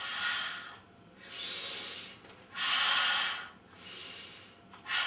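Loud, forceful breaths during a Pilates exercise, three long hissing exhales and inhales in a slow, steady rhythm, close to the microphone with no talk.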